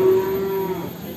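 A Simmental cow gives one long, loud, steady moo at a livestock market in Ngadirejo, with market background noise continuing beneath it.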